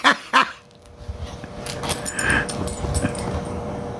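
Pixie, a pet dog, makes two sharp little vocal bursts at the start, then a low, rough growl and whimpering noises that carry on faintly indoors.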